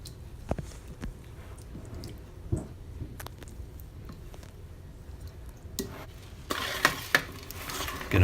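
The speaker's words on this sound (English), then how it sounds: "Then I'm just going to mix everything together and the sauce is ready to go." A spoon stirs and mixes a thick vegan manicotti sauce in a bowl, giving soft wet squishing and occasional light clinks against the dish, close and fairly quiet.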